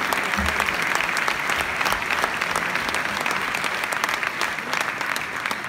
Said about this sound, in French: On peut applaudir Wilfried parce que le CMJ, c'est aussi lui.